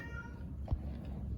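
A 12-year-old cat with a tumor growing on its tongue gives one brief, faint meow indoors over low background hum.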